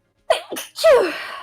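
One close, loud sneeze with a short sharp intake of breath first, alone in silence.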